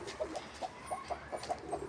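A broody Aseel hen clucks near pigeons in a loft, giving a series of short, soft, evenly spaced clucks over a low background hum.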